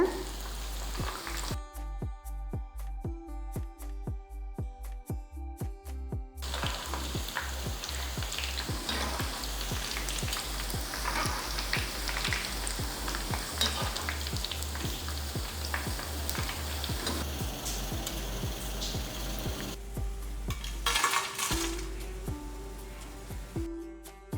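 Curry leaves frying in hot oil, with a steady sizzle and crackle and some stirring clatter for about twenty-four seconds.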